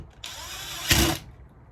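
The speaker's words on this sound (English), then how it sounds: "Screw it in." A close power driver whirs for about a second while small T27 screws are driven into a Stihl MS310 chainsaw being reassembled with an 039 engine, rising to a louder, harsher burst just before it stops; no voices.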